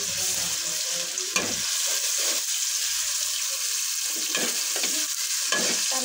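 Onions frying in oil with garlic and ginger paste are stirred in a pan, a constant close sizzle with a regular rhythm of scraping strokes and light clinks of the spoon, no voices.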